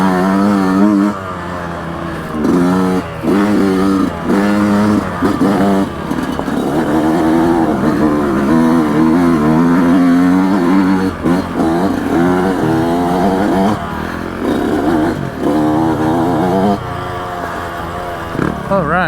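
A Yamaha YZ125X two-stroke dirt bike engine revs hard and repeatedly, rising and falling in pitch as it works through gears on a difficult off-road section. The sound is loud and close, with a rider's voice over it at times.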